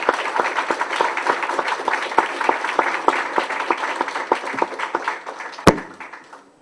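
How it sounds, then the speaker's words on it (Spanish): An audience applauds at the close of a talk on self-sustainability beyond financing, a steady patter of many hands clapping for about six seconds before tapering off, with one sharp knock near the end. "Un aplauso más a Daniel."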